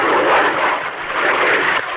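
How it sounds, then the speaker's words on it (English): An airplane dives steeply downward, a loud rushing jet-like roar that swells and ebbs over two seconds, with no talking. "look at that plane come down"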